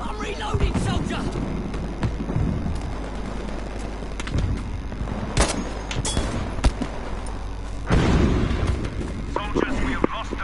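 Gunfire in Battlefield crackles in dense bursts with sharp individual shots and a heavier blast near the end, over a constant rumble with voices talking throughout.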